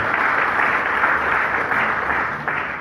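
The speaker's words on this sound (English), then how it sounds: "clap for them." Steady, dense applause from a crowd, sustained at an even level for a few seconds with no pause.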